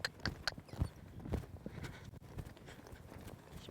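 Horse hooves clip-clop steadily as a young mare in colt-starting training slows from a lope toward a trot, close and fairly faint, with no talking over it.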